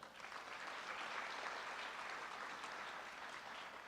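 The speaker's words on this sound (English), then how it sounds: "Let's give them an individual round of applause." Audience applauding at a high school signing ceremony in a gym or hall, a steady, sustained round of clapping from a crowd, fairly close and even throughout.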